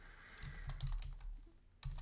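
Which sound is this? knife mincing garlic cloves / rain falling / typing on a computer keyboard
typing on a computer keyboard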